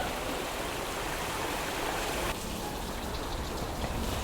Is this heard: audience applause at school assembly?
no